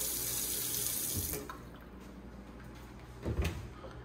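Water runs from a kitchen faucet into a sink for about a second and a half, then stops; a soft cabinet knock follows.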